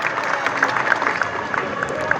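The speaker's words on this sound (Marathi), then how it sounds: "चिमुरड्यासाठी जरा एकदा जोरदार टाळ्या होऊ दे" A Dahi Handi festival crowd claps loudly for a child in the human pyramid. The applause is dense and continuous, mixed with crowd noise and voices.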